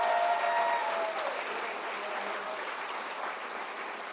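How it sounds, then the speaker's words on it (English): A room of guests at a farewell celebration breaks into applause, a fairly soft, even wash of clapping that stays steady throughout with no voices over it. "How about a round of applause?"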